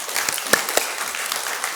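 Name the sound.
congregation applause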